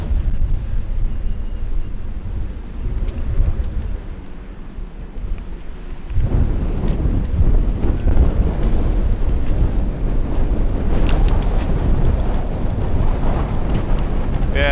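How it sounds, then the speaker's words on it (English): Strong wind gust roaring at a marina as a hurricane approaches, a steady low rumble that swells sharply louder partway through and stays buffeting loud to the end. "that's a bit of a gust, not too bad, maybe 30, 32"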